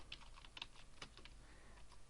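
Quiet typing on a computer keyboard, a short run of distinct light key clicks at an uneven rhythm, close and faint, without talk.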